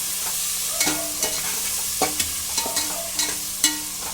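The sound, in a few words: tomatoes and broad beans stirred and cooking in a pan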